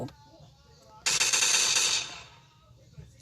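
Rapid automatic gunfire from a video game bursts in for about a second, loud and crackling, over a quieter background of game sound, then fades out.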